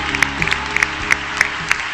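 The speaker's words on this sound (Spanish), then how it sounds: "cómo no pedir un aplauso también para Albert Rivera" Audience applause at a Ciudadanos political rally in Aragón, steady clapping beneath a loud music bed with sharp individual claps and bursts standing out.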